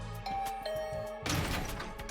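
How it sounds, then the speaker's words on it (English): A doorbell in a video game chimes with a two-tone ding-dong over soft background music, followed by a loud crash or thud as a door is thrown open. "I rang the doorbell and waited."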